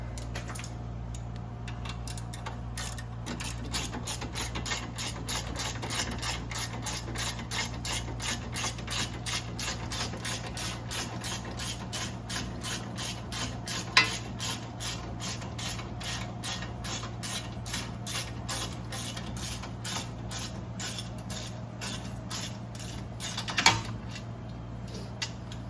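A hand ratchet works on bolts of a 1981 Corvette's brakes, a long run of quick, even clicks in steady rhythm, close and fairly quiet, with two brief louder knocks and no talk.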